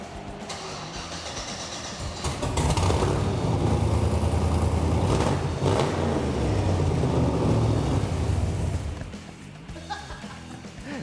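A classic car's engine fires up and runs with a loud, rough rumble for several seconds before settling lower, with brief voices around it in a collector's garage.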